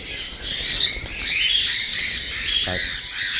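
Caged silver fallow pet birds chirp and squawk repeatedly in quick, bright bursts close by, with a brief flutter of wings, and no talking.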